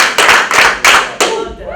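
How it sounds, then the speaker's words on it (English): Four sharp bursts of group clapping from a high school class at prom, evenly spaced and loud, each a quick ragged volley of many hands striking together. "Let's give ourselves 5 Panther claps."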